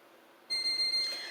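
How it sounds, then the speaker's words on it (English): A kitchen timer goes off with a sudden, close, high electronic beeping in short repeated pulses after a quiet moment, alone and without speech. "I hear the timer is off."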